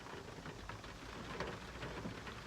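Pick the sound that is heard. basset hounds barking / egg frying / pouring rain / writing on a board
pouring rain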